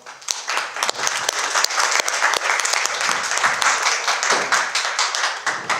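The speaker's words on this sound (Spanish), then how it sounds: "Un aplauso a él, por favor." A seminar audience breaks into lively applause, dense overlapping claps ringing out close and loud for several seconds without pause.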